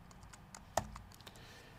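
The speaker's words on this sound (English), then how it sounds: "This is JavaScript that I'm typing here." Computer keyboard typing while entering JavaScript code, a quiet run of light key clicks with one sharper keystroke, heard alone with no speech.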